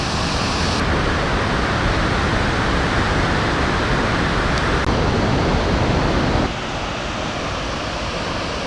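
A waterfall roars in a steady, dense wash of rushing water, loud and close, unbroken for the whole stretch and easing slightly in level near the end, with no voices.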